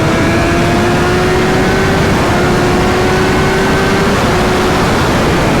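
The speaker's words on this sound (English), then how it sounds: "This is wide open throttle." A 2020 BMW S1000RR motorcycle at wide open throttle, a loud sustained engine roar heavily buffeted by wind rush, the pitch climbing steadily between gear changes.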